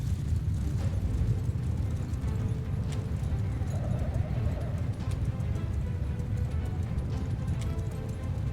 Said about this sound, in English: I turned the horses loose on their horse archers.